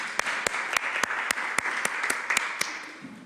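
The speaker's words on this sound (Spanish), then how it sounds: "Les damos este aplauso." Delegates at a Chilean Constitutional Convention session applaud a glacier-defense group's presentation: a steady round of clapping with distinct individual claps punctuating it, easing off near the end.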